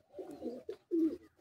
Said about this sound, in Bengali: কিছু ভালো আপনাদেরকে ওড়ানোর পায়রা দেখাচ্ছি।